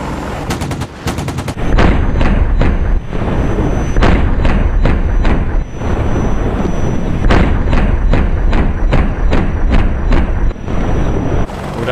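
A helicopter's off-boresight gun in DCS combat flight simulator fires repeated loud bursts of rapid, closely spaced shots, with brief gaps between volleys, during an AH-64 Apache, Mi-24 Hind, Ka-50 Kamov and UH-1 Huey dogfight.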